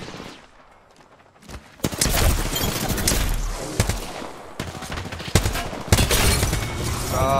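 Marksman rifle fire from a G7 Scout in the shooter game Apex Legends, with several sharp shots and bursts in an ongoing firefight after a quiet opening second, loud and close.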